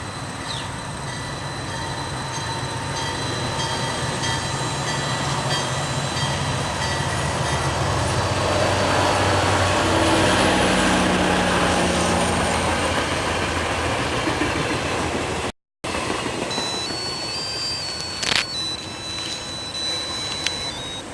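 A train rolls past in a loud, continuous rumble of railcars and wheels on the rails. The sound builds and fades across the full stretch, with some high wheel squeal near the end and no voices.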